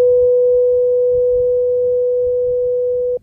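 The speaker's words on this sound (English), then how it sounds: "let's look at the Fourier analysis of the sound made by a tuning fork" A tuning fork rings a single pure steady tone, loud and close, held evenly for about three seconds before stopping abruptly.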